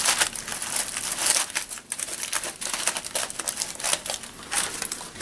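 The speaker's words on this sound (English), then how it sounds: "you line it with the aluminum foil" Aluminum foil crinkling and crumpling as it is pressed to line a baseball hat, a busy close-up rustle with sharp crackly bursts throughout.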